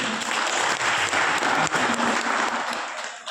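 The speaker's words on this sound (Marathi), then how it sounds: "बाबांसाठी एक वेळा टाळ्या वाजवा" An audience claps together for a man who walked the Narmada parikrama on foot, giving dense, steady applause that holds level throughout and thins out slightly at the end.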